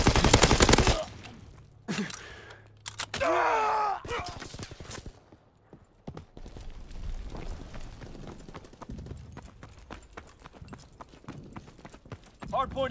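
Gunfire from a Call of Duty WWII hardpoint match at Sainte Marie Du Mont crackles in scattered bursts of shots, set against in-game voices calling out orders and busy battlefield clatter.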